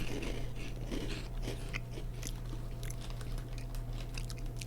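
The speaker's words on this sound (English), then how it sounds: "Good crunch. Very good crunch." Crunchy food being bitten and chewed close to the microphone, a run of crisp crunches and chewing sounds over a low steady hum.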